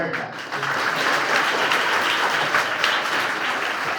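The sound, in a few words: audience applause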